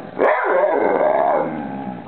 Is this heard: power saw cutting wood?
no